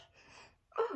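A person gives a single sharp sneeze near the end of a short quiet moment indoors, close and fairly loud.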